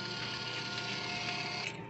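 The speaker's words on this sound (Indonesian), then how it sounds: "Nah, tinggal kita klik cetak." A small receipt printer, driven from an Android shop app, prints an order slip with a steady, continuous buzzing whir that runs close and alone for nearly two seconds before cutting off.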